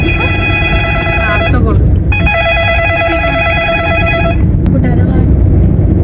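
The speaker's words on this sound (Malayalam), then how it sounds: "ഇയാൾക്ക് രണ്ടാമത്തെ പ്രാവശ്യം ഫോൺ വന്നു" An incoming-call ringtone plays as two bright melodic bursts with a short gap between them, over steady room noise and faint background voices.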